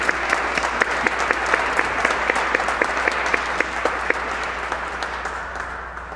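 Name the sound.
congregation applauding the quartet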